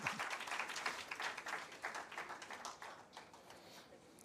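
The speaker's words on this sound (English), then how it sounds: "A big round of applause." Applause from an audience at a Women's Day special event by an interior design chapter in Hyderabad, a dense clatter of clapping that is strongest at the start and thins gradually toward the end, with no voices.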